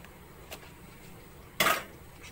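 Dishes and cutlery clatter in a village kitchen: a short clink near the start, a louder burst of clattering crockery later, then another clink at the end, with no talking.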